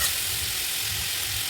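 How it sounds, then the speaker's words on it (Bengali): Chopped tomatoes stirred in a hot frying pan for a bitter gourd curry, a dense continuous sizzle and hiss filling the whole moment, close and fairly loud, with no voices. "টমেটো কুচি দিয়ে দেওয়ার পর আবারও ভালো করে নাড়াচাড়া করে নেব।"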